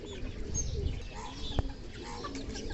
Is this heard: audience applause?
no